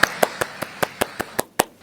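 Audience applause at a Malayalam public event, heard as about nine separate sharp claps in an uneven rhythm, close and fairly loud, with no one speaking over them.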